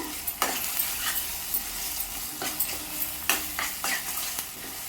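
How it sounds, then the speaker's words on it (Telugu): A spoon scrapes and stirs curry in an oily pan, with a soft continuous sizzle beneath and several distinct, irregular scraping strokes close by, without any voices. "వేసి ఒకసారి మిక్స్ చేసుకుంటున్నాను."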